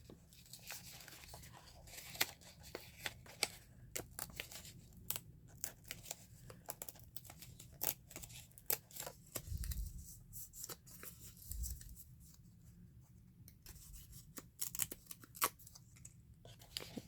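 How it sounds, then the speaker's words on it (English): Paper pages torn off a calendar for a collage, heard as many quick, close rips and crinkles in an irregular rhythm, with occasional low murmured talk underneath. "Let's tear some of these off. How fun. I'll just tear a few."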